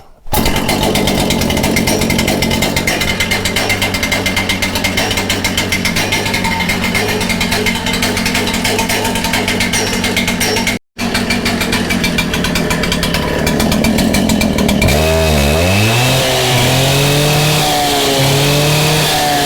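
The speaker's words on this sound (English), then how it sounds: "We're going to let it run because we know it does." A Makita EK7301 power cutter engine runs loud and close, a steady raspy two-stroke drone with a brief cut near the middle, then the pitch climbs and wavers in revs toward the end.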